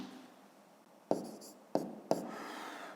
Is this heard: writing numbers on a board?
yes